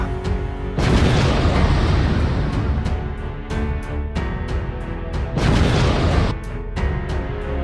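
A machine blows up in a comedy skit, giving loud booming blasts with a roaring, crashing wash of noise, the heaviest bursts near the start and again later, no talk over them.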